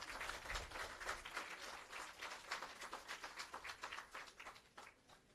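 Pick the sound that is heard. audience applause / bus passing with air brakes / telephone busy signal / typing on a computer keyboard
audience applause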